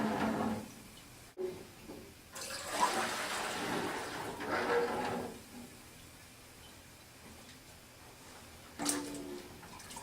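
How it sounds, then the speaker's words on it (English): Dirty water is poured into pots in a faint rushing splash that starts, swells for a few seconds and tapers off, followed by a brief second gush near the end. "We're going to add the dirty water to the pots."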